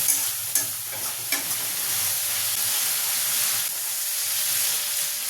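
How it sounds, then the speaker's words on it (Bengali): Prawns fry lightly in oil for a Bengali potol chingri dish, giving a steady close sizzling hiss with a few sharp stirring clicks early on. No voices. "মাছগুলোকে আমি এরকমভাবে ভেজে নেব"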